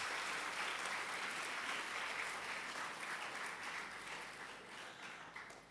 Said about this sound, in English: So put your hands together to give a big round of applause.